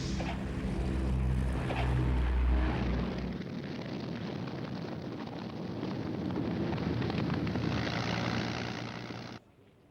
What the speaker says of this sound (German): Spitfires und Hurricanes hoben sich hornissengleich in die Luft